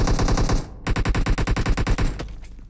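In the mobile game PUBG Mobile, loud automatic gunfire rattles out in rapid bursts of closely spaced shots with a brief pause between volleys, then trails off.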